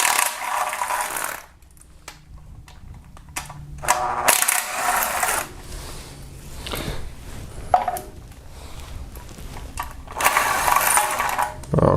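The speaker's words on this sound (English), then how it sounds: "start removing with 10mm socket a few bolts" A 10mm socket ratchet removes bolts, some cross-threaded, from underneath a Kia Optima during oil pump removal, giving close, irregular bursts of clicking and mechanical rattling separated by brief pauses.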